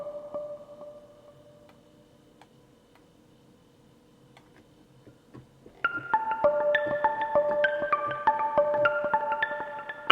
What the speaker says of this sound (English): Let's try the Cedar's Pluck.